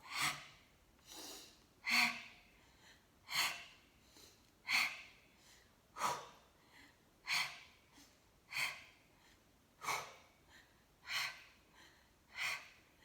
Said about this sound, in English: And these breaths, breathing out through the mouth.